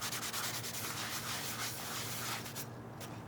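Steady rubbing of a rag wiping metal down with lacquer thinner to degrease it before rust converter treatment, a continuous close scrubbing hiss that eases off near the end.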